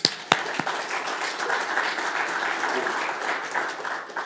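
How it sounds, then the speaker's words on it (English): Crowd applause at a launch event, a burst of clapping from many hands that swells and holds steadily before tapering off, moderately distant. "how about a big round of applause for Chris?"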